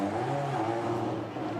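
The number 7 race car idles or rolls slowly through the pit lane at a classic endurance race, giving a low, steady engine drone at moderate distance for a brief moment.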